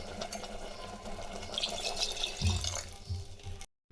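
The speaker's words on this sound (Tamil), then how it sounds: "தண்ணி கொஞ்சம் ஊற்றிக்கலாங்க." Water is poured into a pot of simmering sambar, a steady close splashing pour over a sizzling background that swells briefly before stopping abruptly.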